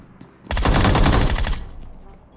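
A burst of automatic gunfire in PUBG Mobile, one loud sustained volley of rapid shots lasting about a second, close and dominant, followed by quiet.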